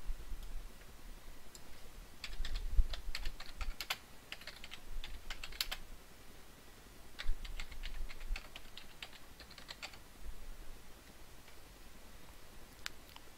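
Steady, soft computer keyboard typing while entering a title for a PowerPoint presentation: irregular light clicks in short bursts over a faint background hiss.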